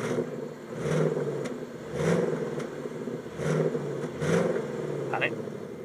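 A 2022 Ford Mustang Mach-E in silent mode: a low synthetic hum swells and fades in repeated waves over a steady electric whir, with a brief high tone near the end.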